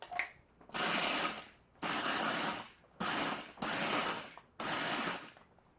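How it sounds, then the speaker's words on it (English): A kitchen mixer grinds gingerbread cookies into powder in five loud, whirring bursts of about one second each, separated by short pauses, with no speech. "I'm going to use my mixer just to grind them up"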